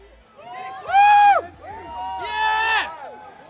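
A crowd at a UFC fight press conference in New York lets out loud whoops and cheers in two swelling bursts, with shouted voices standing out above the noise.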